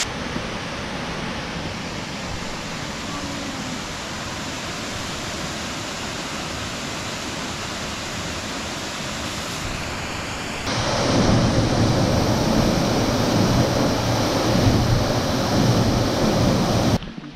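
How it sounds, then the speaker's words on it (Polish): Big waterfalls on Madeira, swollen with water during days of rain, roar as a continuous broadband rush that grows noticeably louder partway through, with no voices. "W tych wodospadach jest tak dużo wody, że są takie ogromne"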